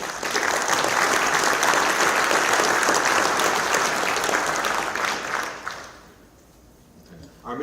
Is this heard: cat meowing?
no